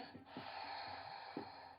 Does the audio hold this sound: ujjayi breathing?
yes